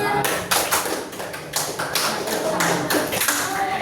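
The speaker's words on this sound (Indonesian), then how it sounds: "berikan tepuk tangan untuk kelompok terakhir." A classroom of students claps for the last presenting group during a teaching practice lesson, a loud, dense and uneven burst of many hands filling the room for several seconds.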